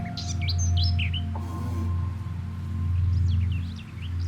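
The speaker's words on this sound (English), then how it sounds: "You can hear birds." Several birds chirp and tweet intermittently in short, high calls over a steady low outdoor hum, with no one speaking.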